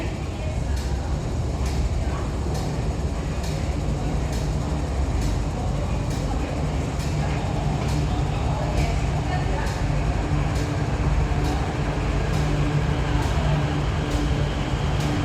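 An MTR Kwun Tong Line Q-Train runs through stations on a non-passenger test run, a steady rumbling roll with rhythmic clicks of wheels over rail joints, heard from nearby.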